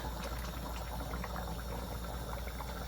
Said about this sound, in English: So now we're adding in our water.